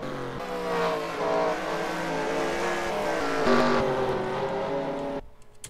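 Rally race cars at Suzuka in a racing video game, several engines droning loudly together at high revs with a layered, steady roar that drops off abruptly near the end.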